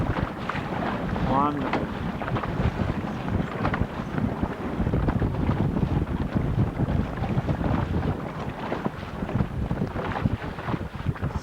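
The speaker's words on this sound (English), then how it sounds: "It's pretty blustery out here" Blustery wind buffets a microphone on a boat out on open water, a constant loud rumbling roar under a brief spoken word.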